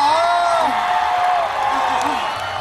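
A crowd at a Korean university festival cheers loudly for a performer, with sustained whoops and screams layered over scattered clapping throughout.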